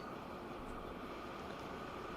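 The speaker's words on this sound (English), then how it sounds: "on our lovely electrified train" Electrified train rolling along in Transport Fever 2 from a driver's view, a faint, steady broadband rumble with no voices.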